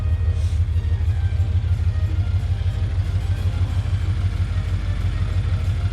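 A drift car's engine idling roughly close by, a loud low throbbing rumble with uneven clattery pulses that holds steady the whole time.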